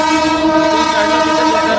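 A train at a station sounds close and loud, its horn-like droning tone sustained steadily over the rumble of the carriages.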